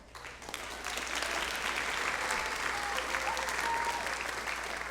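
A large audience applauds steadily at a 2016 senior awards ceremony for NHS honorees, a dense and sustained wash of clapping that starts softer and swells to a full, even round.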